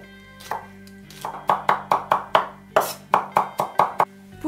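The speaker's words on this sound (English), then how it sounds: "Chop them." Mushrooms being chopped with a knife on a cutting board, about a dozen crisp, evenly spaced close knocks, with a faint musical drone underneath.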